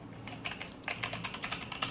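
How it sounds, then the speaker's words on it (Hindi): A new gaming keyboard clatters under quick, uneven typing, with crisp keystrokes close to the microphone, sparse at first and then denser. No voices are heard. "देख रहे हो आवाज़ सुनो इसकी कड़क कड़क कड़क कड़क"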